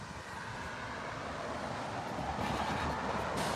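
A Florida East Coast Railway train passes on the heritage main line at Stuart, a faint, continuous rumble and rattle of rail cars with no breaks.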